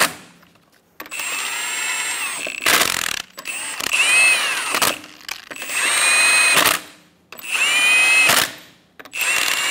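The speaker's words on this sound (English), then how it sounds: "Snug the lug nuts down." A power tool snugs down the rear wheel lug nuts on a 2014-2018 Chevrolet Silverado 1500, with about five loud, close whirring bursts separated by short pauses.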